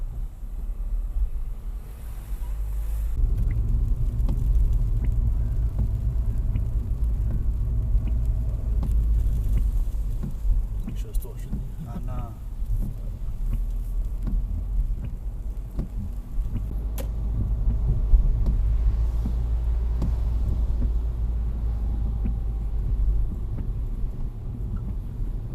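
A learner driver's car pulling away in first gear, heard from inside as a low engine rumble that rises and holds steady under road noise, with occasional faint clicks.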